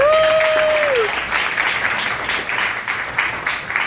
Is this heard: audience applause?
yes